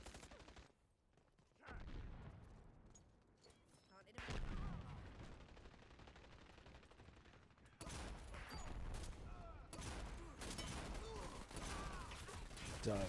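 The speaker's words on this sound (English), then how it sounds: "I don't know who's shooting me." Rapid bursts of gunfire from the online shooter Dirty Bomb crackle in several volleys, some close and loud, others quieter, with mechanical clicks between them and no talking.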